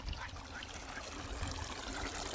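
Irrigation water begins flowing into a farm field, a soft, continuous trickling and gushing wash that stays faint and steady throughout.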